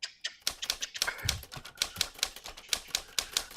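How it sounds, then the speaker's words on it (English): Keys clack on a typewriter in quick, uneven bursts of sharp strikes, close and fairly quiet, with no talking. "So I would write these crappy typewritten letters out, you know, with a typewriter"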